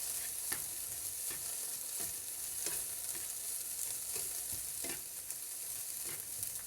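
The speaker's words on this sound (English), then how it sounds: "We're going to go in with the garlic. And we'll just give this a nice stir." Garlic and peppers frying in a paella pan, a steady bright sizzle broken by regular scraping stirs of a spoon, close and alone with no voices.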